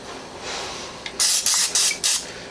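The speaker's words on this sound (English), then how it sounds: "spray it a little bit to help keep it sticking" Cooking spray hisses onto an ice cream scoop: a soft lead-in, then four short, loud bursts in quick succession, close and alone.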